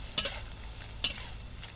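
Pork sausage being stir-fried in a pan for fried rice with grilled pork neck, two sharp scraping stirs over a low steady sizzle, close and alone.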